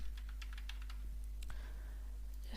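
Keys clatter on a computer keyboard in a run of quick, light taps as an address is typed, close and fairly quiet over a steady low electrical hum, with no voices.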